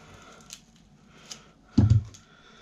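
Wire cutters snip through copper windings from a desk fan motor: a few faint ticks, then one close, crunchy cut with a short burst of metallic snapping.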